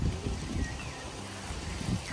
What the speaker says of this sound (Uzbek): shamol yomon qattiq bo'yapti